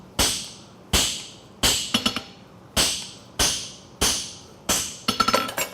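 A blacksmith's hammer drives a fuller into a hot eggbar horseshoe: about eight sharp, ringing metallic blows at a steady rhythm, loud and close, each with a short ring and a few quicker taps near the end.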